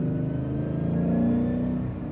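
A 2011 Shelby GT350 V8 revs hard under acceleration at Celebrity Cars Las Vegas, a steady, loud, throaty engine roar with rising pitch heard from inside the car, with no talking.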